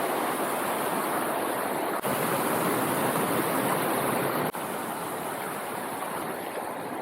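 Steady, broadband rushing of river water spreading over flat ground near a campground in Crawford Notch, New Hampshire, loud and continuous from start to finish with two brief dips.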